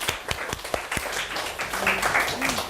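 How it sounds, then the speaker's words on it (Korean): A short burst of scattered hand claps in a classroom, with a handful of sharp, separate claps at the start and faint voices murmuring as the clapping fades. "자, 박수."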